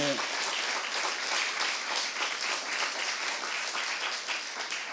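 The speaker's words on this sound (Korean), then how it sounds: "박수 하나 주세요" Sustained clapping from a church congregation during a Saturday service sermon rolls on as a continuous, moderately loud wash of many hands, with a brief tonal voice at the very start.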